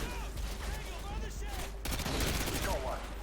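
Gunfire from the video game Call of Duty Modern Warfare 2 rattles in dense, continuous bursts that swell louder midway, mixed with game effects and a voice talking over it.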